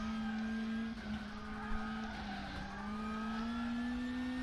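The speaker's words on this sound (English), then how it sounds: "We're seeing lots of rear brake locking." Race car in WTCC 13 sim racing, a Lada at Moscow Raceway, with a steady loud engine drone and tyre scrub as the rear brakes lock under braking.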